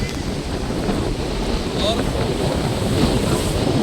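Ocean surf at a Mumbai beach roars steadily with heavy wind buffeting the microphone, a continuous loud wash of waves close by.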